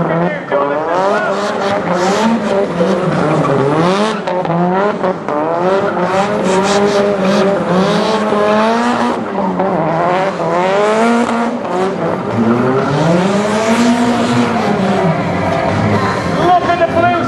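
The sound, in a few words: stunt car doing donuts, tyres squealing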